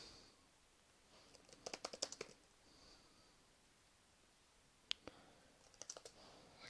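Short clusters of computer keyboard keystrokes, faint and close, in two brief bursts separated by a quiet pause, with a few sharper isolated clicks.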